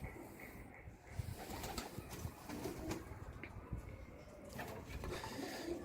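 Pigeons coo softly with low, rolling calls, faint against a quiet background with scattered small rustles.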